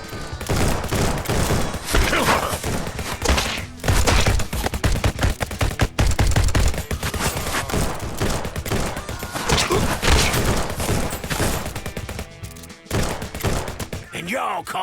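Rapid, loud gunfire in the VR shooter Gun'n'Stries: Bulletproof, dense bursts of automatic and single shots with brief pauses over about fifteen seconds, close and punchy.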